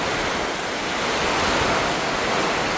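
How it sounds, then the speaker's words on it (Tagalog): A sudden heavy downpour during a storm makes a loud, dense, unbroken hiss of rain that fills the whole clip, with gusty wind noise and no voices. "Grabe, walang pasintabi, biglang buhos oh."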